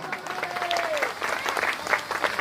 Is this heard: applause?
yes